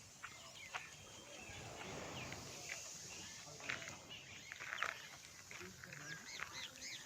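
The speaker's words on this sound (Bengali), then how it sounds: "বাগানে আসলে অনেক রকম পাখির ডাক শোনা যায়" Assorted birds call and chirp in a garden, with brief high-pitched calls scattered through a faint, steady outdoor background.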